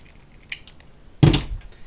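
Scissors snip through a strip of basket-weaving material at an angle in a single crisp, fairly loud cut that follows a few faint rustles and handling noises.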